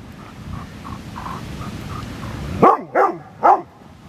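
A dog gives three sharp, loud barks close by, following a stretch of quieter whines and yips over a low background rumble.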